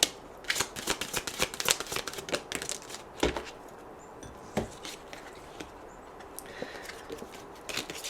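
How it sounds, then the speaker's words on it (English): Oracle cards being shuffled by hand, producing close, irregular bursts of papery riffles and flicks with a few sharper taps, fairly quiet overall. "So let's get a couple more of these oracle cards"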